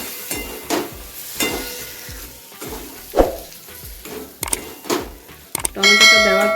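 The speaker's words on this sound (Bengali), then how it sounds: "এখন আমি দিয়ে দেবো কটা টমেটো স্লাইস করে কেটে রাখা।" Sliced tomatoes go into hot spiced oil for a tangra fish tel jhal curry, giving a frying hiss broken by irregular clattering stirs and knocks, busiest and brightest near the end.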